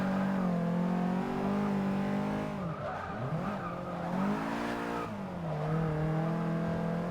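Racing hatchback engine in the Forza Motorsport 6 video game, a car with suspected transmission trouble, droning and revving in strained, wavering pitches with tire squeal through a corner, loud and steady with no talk.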